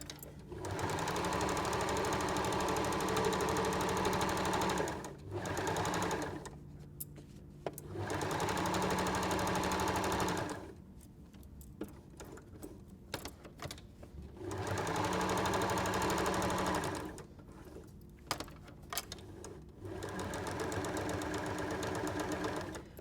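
A sewing machine stitches around the edge of a fabric peg bag, running in four loud sustained bursts with short pauses between them as the fabric is pivoted at the corners.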